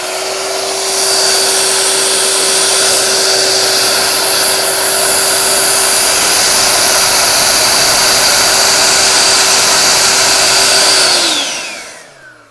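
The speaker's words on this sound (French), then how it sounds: "la technique de la souffleuse électrique avec un fil qui est beaucoup plus puissant" Corded electric snow blower clearing snow off a car, a loud close continuous motor whine holding steady for about eleven seconds before winding down and stopping.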